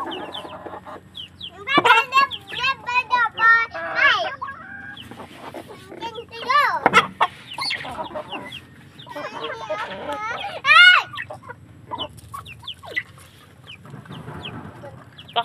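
Chickens cluck and squawk in irregular bursts while being fed, with children's voices chattering and calling close by throughout.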